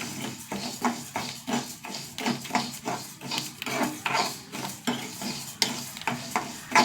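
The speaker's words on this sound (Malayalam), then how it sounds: "വറുത്ത് വന്നു കേട്ടോ പരിപ്പ്" Lentils (parippu) are dry roasted and stirred in a pan for a sadhya-style curry, making a rhythmic, repeated scraping and rustling about twice a second. It is close and moderately loud, with no talking.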